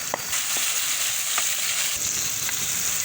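Steady, loud sizzling and frying as tomatoes go into a pan of onion and garlic for a chicken and turnip curry, with a few soft stirring clicks and no talking.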